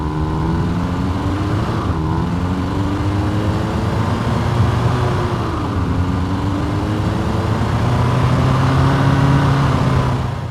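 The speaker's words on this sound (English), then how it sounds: "creating simple driving sounds using Krotos Igniter" Synthesized car driving sound built in the Krotos Igniter plugin, heard from an exhaust perspective: a steady, loud engine drone with gently rising and falling pitch as the car accelerates and eases off, continuous throughout with no voices.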